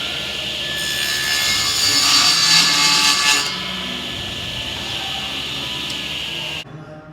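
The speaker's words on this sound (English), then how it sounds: "that's how you cut a dado on the table saw" A table saw cutting a dado in wood, a loud close whirring hiss that swells during the cut, then settles to the idling motor before stopping abruptly.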